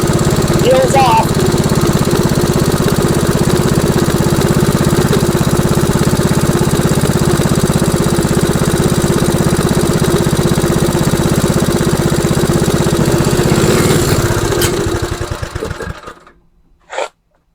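A Tecumseh Snow King small engine idles loudly and steadily for a long stretch, its rough pulsing drone running evenly before sputtering and cutting out near the end, leaving a few faint knocks as it dies.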